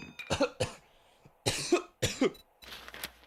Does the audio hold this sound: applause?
no